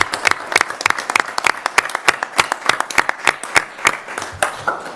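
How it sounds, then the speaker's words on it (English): Applause at a public school board meeting, honoring two track and field students: a modest crowd claps in quick, distinct, fairly close hand strikes that continue steadily for several seconds. "let's give these 2 a round of applause."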